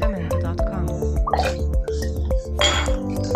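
Triple sec pours into a bar measure for a White Lady cocktail, giving a run of close liquid drips and light glassy clinks, with a voice talking over the pour.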